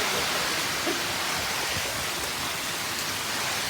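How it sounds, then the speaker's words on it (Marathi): Heavy rain pours down onto a shed roof in a dense, steady hiss, constant and unbroken throughout. "खूप जोराचा पाऊस चालू झालेला आहे"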